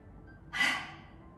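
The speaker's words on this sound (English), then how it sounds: "Take a deep breath in. Inhale." A single deep breath drawn in during a chair yoga session, one soft airy rush lasting under half a second, close and alone.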